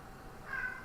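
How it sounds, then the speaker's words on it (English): A cat cries out once in a drawn-out, high-pitched yowl, faint and muffled behind steady background hiss, rising briefly and fading within a second. "Why is my cat screaming?"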